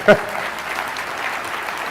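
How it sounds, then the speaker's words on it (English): Audience applause at a political talk show taping, a steady wash of clapping from a crowd that runs evenly through the short moment without a voice over it. "You can applaud for that, because that is good."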